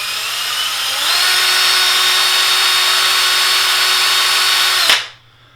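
A power drill spooling line onto a level-wind fishing reel whines steadily at high speed, pitch rising once as it speeds up, then cuts off abruptly and winds down.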